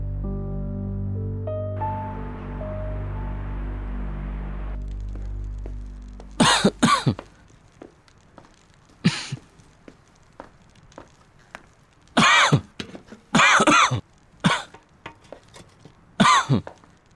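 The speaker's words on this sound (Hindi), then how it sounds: "तुम बुरी तरह खांस रहे हो।" A person coughs badly in repeated harsh bursts: a pair of loud coughs, then a single one, then several clustered fits, close and clear after a low sustained tone fades out.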